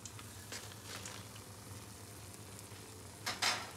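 Battered green chilies for pakoras fry in hot oil with a quiet, steady sizzle, broken by a few faint stirring scrapes near the start and end.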